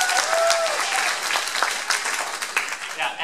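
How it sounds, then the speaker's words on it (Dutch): An audience at a 2017 farewell event breaks into dense, steady applause that runs the full length, with voices faintly mixed in beneath the clapping. "Dus ook even een applaus voor die mensen."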